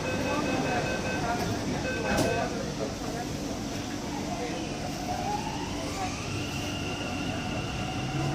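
A Bangalore metro train arrives at Majestic station, its rumbling ride and rail noise steady and loud, with a rising tone near the end and voices heard over it.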